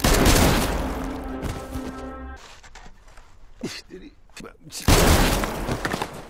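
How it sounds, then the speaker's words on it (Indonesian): Gunshots in an action film scene, a burst of loud, dense shots at the start, then a quieter stretch with scattered sounds before another loud blast near the end. "Dan Namsan menembak orang ini."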